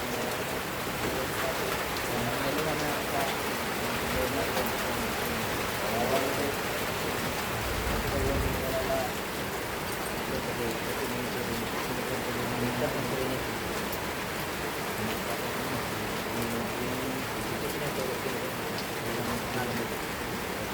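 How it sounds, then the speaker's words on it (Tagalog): Heavy rain pours down in a dense, continuous hiss, steady and loud throughout, with voices faintly audible beneath it. "Lumakas yung ulan yata."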